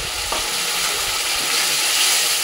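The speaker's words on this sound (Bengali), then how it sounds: "দেখো এবার মশলাটা একটু কষে এসছে" Ground cumin, ginger and dried red chili paste fries in hot oil with browned onions. A loud, dense, continuous sizzle holds steady throughout, with no voices.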